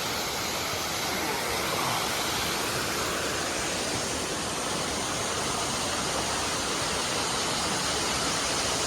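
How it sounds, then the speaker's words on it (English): A waterfall rushes loudly and steadily in a green forest setting, a dense, unbroken roar filling the whole stretch at close range with no voices over it. "Oh, look at this waterfall, guys."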